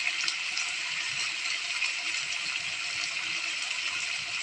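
Running water from a tap or pour during washing in a home kitchen where meat is being cooked, a steady even splashing rush that continues unbroken and fairly close, with no voices.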